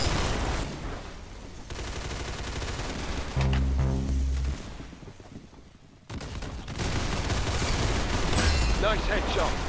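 Gunfire in the Roblox game Arsenal comes as dense bursts of loud shots, with a tonal game sound in the middle and a brief lull before the shooting resumes.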